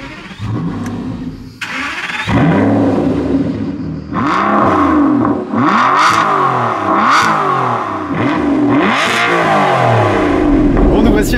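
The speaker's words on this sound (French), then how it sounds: "il est temps de démarrer ce V12 Atmo et d'aller faire un tour" An Aston Martin V12 Vantage S with its naturally aspirated V12 cranks, fires and blips through several loud, close rising-and-falling revs, with a brief quiet pause before the catch.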